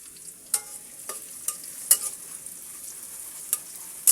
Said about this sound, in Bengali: পেঁয়াজটাকে আমি সুন্দর করে ভেজে নিচ্ছি